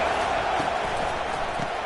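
Stadium crowd at a college football game against Louisville roars in a steady, dense wash of cheering and noise, continuous and loud throughout with no single voice standing out.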